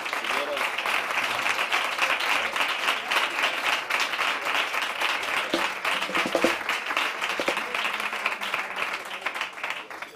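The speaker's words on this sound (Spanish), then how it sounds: "quiero pedir un fuerte aplauso para él" Sustained audience applause fills a live flamenco jazz concert at a Madrid jazz club, dense and steady clapping from a crowd throughout, with scattered brief accents and no one speaking over it.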